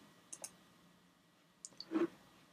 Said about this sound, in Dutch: Dat doe ik door op de punaise met de rechter muisknop te klikken